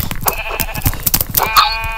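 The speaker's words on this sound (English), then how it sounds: "Oh, this sheep didn't just walk into my chest." Sheep bleating in a Minecraft-style PvP video game, a few clear bleats rising late in the short clip over busy game sounds and clicks.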